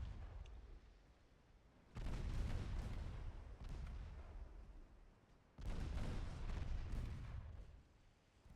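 Naval guns fire in an Ultimate Admiral Dreadnoughts sea battle: two heavy booming salvos, each rolling on for several seconds, rise over a low distant rumble of ongoing cannon fire.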